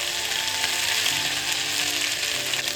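Asafoetida and ground spices sizzle in hot tempering oil, a steady, close, loud frying hiss that holds evenly throughout without talk.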